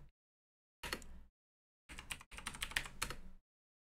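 Quick bursts of typing on a computer keyboard while entering a sudo terminal command, a short run of keystrokes, a pause, then a longer dense flurry of clicks, close and clear with no voices.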